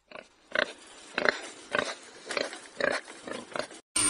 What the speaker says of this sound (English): Wild pigs.